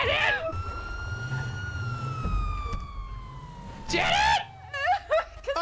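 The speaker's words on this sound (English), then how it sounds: "Like I have my sirens on, I'm in the tunnels." A police car siren in a video game roleplay wails steadily through a tunnel, sweeping slowly over engine rumble, with people talking and shouting over it toward the end.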